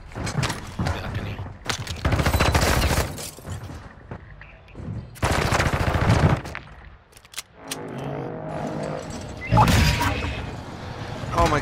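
Loud bursts of automatic gunfire from the player's guns in a Call of Duty Resurgence-style match, several sustained volleys separated by quieter gaps with mechanical clicks, near and dominant, with occasional talk between them.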